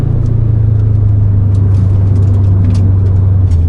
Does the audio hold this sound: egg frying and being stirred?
no